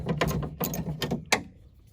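Close, loud ratcheting clicks from a ratchet wrench, probably turned with a 5/16 socket, as it loosens a bolt on a Dodge Ram 1500 exterior door handle: a quick burst of mechanical ticks over about a second and a half, then a final sharp click.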